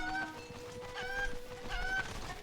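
Chickens in Zelda: Breath of the Wild cluck in short repeated bursts over a steady game background hum, moderately loud and with no talking.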